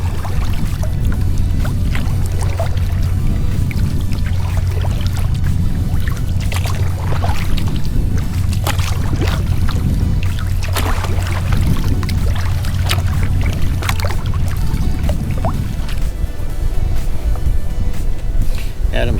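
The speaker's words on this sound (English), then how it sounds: "boat wakes from that boat that just passed us by" Wakes from a passing motorboat slap and splash against a kayak on the Neuse River in busy intracoastal waters, with steady watery sloshing and a faint engine hum underneath, and people talking throughout.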